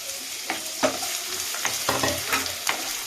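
Chopped onion frying in oil for pulao, sizzling steadily up close while a spoon stirs it, scraping the pan in several distinct strokes.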